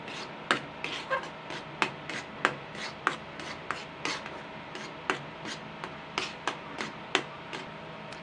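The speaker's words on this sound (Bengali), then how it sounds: "তো আমি এটা একটু নেড়ে চেড়ে আমি এটাকে একটা শুকনো ডো মতন করে নেবো" Rice flour and milk powder dough worked in a pan with a utensil, heard as a steady series of sharp scraping taps, roughly two per second, close and alone.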